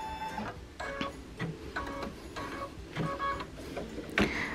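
An embroidery machine stitching a quilt, a rhythmic mechanical whirring and clacking in regular pulses about twice a second, close and steady with no voice over it.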